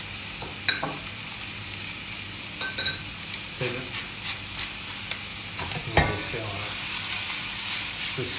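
Squid tentacles searing in butter in a pan, crackling in a close, continuous sizzle broken by a few sharp utensil scrapes and taps as they are stirred.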